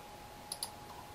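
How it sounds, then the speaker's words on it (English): A computer mouse gives two quick, crisp clicks close together while someone moves through a Schoology menu. The clicks are close and clear over a low steady background hum. "click on the course that this student is in"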